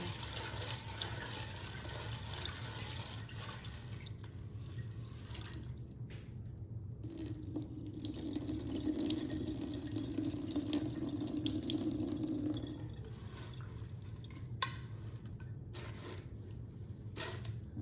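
Tap water runs steadily while great northern beans are rinsed in a pot, a continuous splashing wash that swells louder for a few seconds in the middle before settling back.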